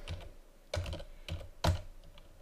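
Several sharp keystrokes on a computer keyboard come in a short, uneven run of about four clicks, close by over faint room hum.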